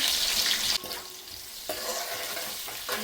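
Onions and green chillies fry and get stirred in a pan of hot oil with whole spices. A close, steady sizzle is broken by a few sharp scraping stirs.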